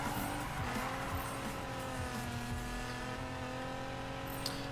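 Engine of a GTR race car in the Need for Speed video game, with a sustained droning roar and tire squeal at steady moderate loudness, plus faint other cars nearby.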